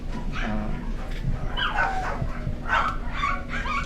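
Beagle mix dog giving short yips and whimpering cries in a noisy room, several close bursts over steady background hum, with faint voices underneath.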